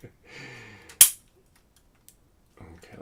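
A toy cap gun revolver fires one sharp, loud snap, close by, with quiet mechanical handling noise and brief speech before and after the shot.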